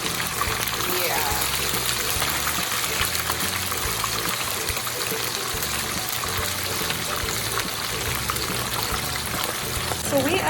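Sea bass fries in hot oil with a dense, continuous spattering sizzle, loud and close, while a person talks over it.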